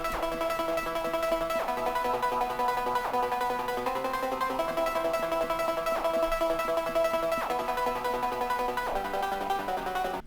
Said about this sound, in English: I got this ARP, and I got some effects on this ARP as well